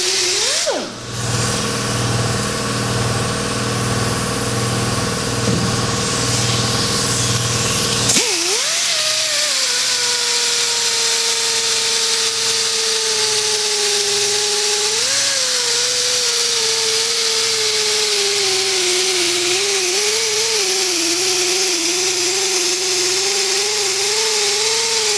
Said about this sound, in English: I'll actually just squirt a little bit on the pad, swirl it around on the surface before I start buffing it down.